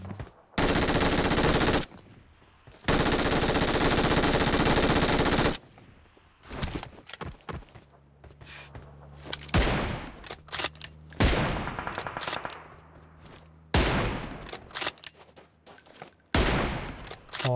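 Gunfire in a video game: two long sustained automatic bursts open, followed by a string of separate loud single shots and short volleys, spaced irregularly and heard close with no talk.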